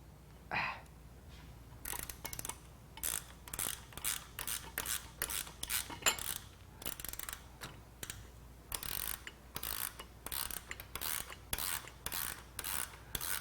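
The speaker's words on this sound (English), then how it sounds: "So we'll now take the pinch bolt out." Pinch bolt being worked loose with a hand tool on a vintage Triumph motorcycle, a quiet series of short repeated ratcheting and scraping strokes with brief pauses between them.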